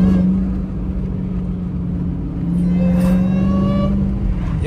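A car pulls away with a prominent rising engine whine over a low rumbling drone, the pitch climbing in steps as it accelerates, loud and close with no talk.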